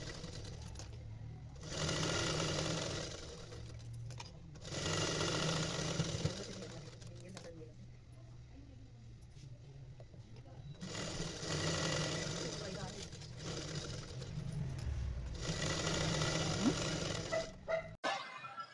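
Sewing machine running in several long bursts as it double-stitches the side seam of a skirt, pausing between runs; a steady, fairly loud mechanical whir in a home tailoring setting.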